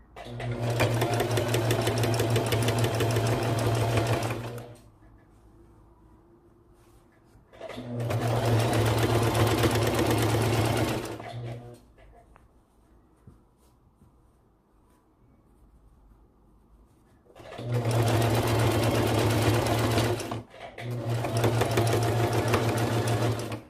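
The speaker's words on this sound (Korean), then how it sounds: "다시 노루발 끝부분과 원단 끝부분을 맞춰서 노루발을 내리고 다시 박아줍니다" A sewing machine sews fabric for a baby bandana bib in three loud, close bursts of steady stitching, separated by quiet gaps while the material is repositioned.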